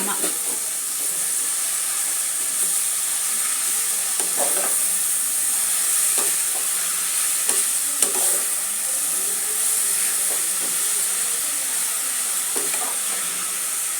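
Mint rice ingredients are sautéed in a pan with a constant bright, hissing sizzle and occasional soft stirring scrapes. A voice talks intermittently over it.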